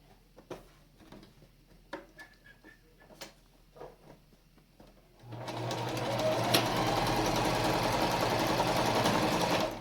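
A few soft handling clicks and taps come first, then a sewing machine starts up and stitches a cloth face mask in a steady, loud whirring run that lasts to the end.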